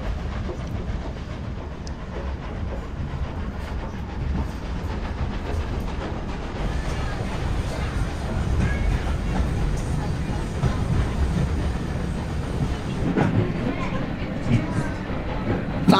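A steam train rides along the Bo'ness and Kinneil Heritage Railway in Scotland, heard from on board. A steady rumble of carriage and track runs throughout, with faint rattles and a few louder knocks near the end.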